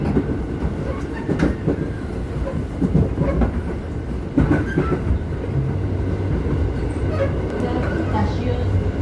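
A commuter train rumbles into Manggarai station in Jakarta with loud, continuous rolling noise and rhythmic clacking of wheels over the rails, heard from inside a car along with faint background voices.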